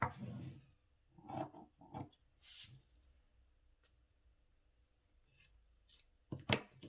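Scissors snip through fabric for a men's senator outfit in a few short, quiet cuts with gaps of near silence between, close to the listener in a still room.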